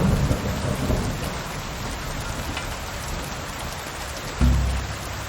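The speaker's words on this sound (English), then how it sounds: "Damn rain!" Steady rain pours throughout in the medieval open-world game Kingdom Come: Deliverance II, with a deep thunder rumble breaking in near the end, loud and close with no speech.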